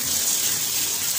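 Rainwater gushing during a rainy-season downpour, a steady loud broadband rush of flowing water with no pauses and no voices.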